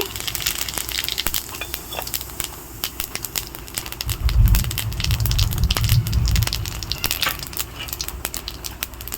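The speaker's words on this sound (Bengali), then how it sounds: "আমার তেলও গরম হয়ে গেছে, জিরা ফোড়ন দিয়ে দিচ্ছি।" Cumin seeds hit hot oil for tempering in a home kitchen, a close, dense crackling sizzle with sharp pops that swells into a louder burst midway before settling.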